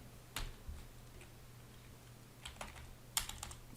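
Light typing on a computer keyboard in a quiet room, a few scattered keystroke clicks followed by a quick cluster near the end, faint and close over a low hum, with no talk.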